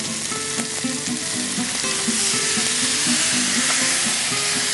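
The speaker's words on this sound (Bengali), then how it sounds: "আগে তুমি আদা রসুন দিয়ে দাও, নইলে পুড়ে যাবে" Ginger and garlic fry in a hot pan with a loud, continuous sizzle, joined by faint tonal background music and a few light clicks, with no voices.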